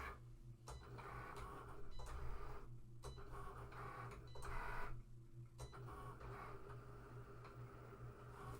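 A cutting machine slices vinyl for a handbag appliqué with a low, steady motor hum and repeated whirring passes that rise and fall as the carriage moves back and forth, close and fairly quiet.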